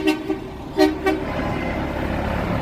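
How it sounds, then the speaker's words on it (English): A truck blasts its horn in a few short toots followed by a longer honk, loud and close on a downtown Chicago street in the Loop, with traffic rumble continuing underneath. "When a truck starts honking like that, back up"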